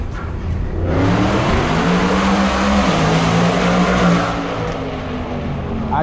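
An F90 BMW M5 engine pulls hard under full acceleration, heard from inside the cabin as a loud, rising roar that climbs steadily for several seconds with a brief shift-like dip.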